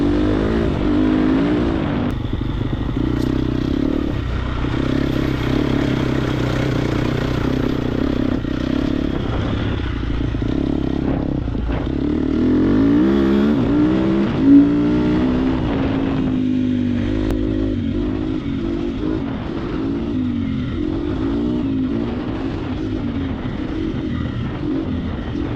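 A Triumph TF250X motocross motorcycle ridden hard, its engine revving continuously and rising and falling through gear changes, loud and close, with a brief clatter partway through and no talking.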